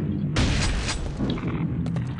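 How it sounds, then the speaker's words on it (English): In Quake II, a loud explosive boom bursts out as barrels are shot, followed by rumbling debris and a second, smaller crackling blast near the end. "you'll notice when I shoot these barrels, boom, the explosions are again polygonal."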